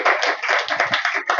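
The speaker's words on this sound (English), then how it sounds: "Let's clap for him once again." Audience clapping at a basic schools quiz final, a short close burst of dense, bright applause that pulses briefly and stays loud throughout.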